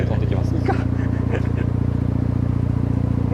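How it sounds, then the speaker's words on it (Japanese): A Mazda RX-7 FD3S rotary engine idles close by, a steady, loud, pulsing drone with a fine rhythmic throb, while someone talks over it. "これアイドリングの音でね。"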